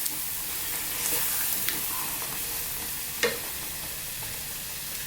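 A creamy garlic white sauce bubbles gently in a pan over low heat, a soft, steady sizzle with faint stirring scrapes and one sharper knock partway through.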